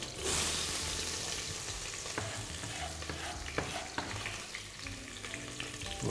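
Chicken pieces frying in a pan before onion goes in, a steady close sizzle with occasional clicks and scrapes of stirring, loud and continuous with no talk.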